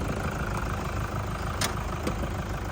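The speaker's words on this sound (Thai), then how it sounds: "มาฟังเสียงเครื่องยนต์ดังนิ่มๆกันเลย" A used 2007 Toyota Vigo 3.0 pickup's engine idles steadily and close, a smooth continuous rumble with no change in pitch or load.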